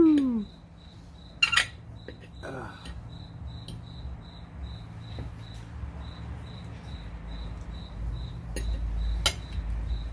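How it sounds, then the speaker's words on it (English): Crickets chirp faintly in a steady, regular pulse throughout, while a few brief clinks and knocks sound close by early on. "Yep, you hear crickets."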